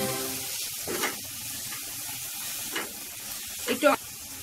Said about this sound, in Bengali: পেঁয়াজটা কিন্তু খুব ভালো করে ভাজতে হবে